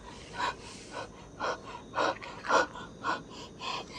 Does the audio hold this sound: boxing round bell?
no